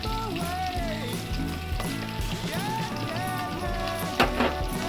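Onions frying in a pan, a continuous sizzle with crackling pops, heard close and steady beneath background music and occasional stirring.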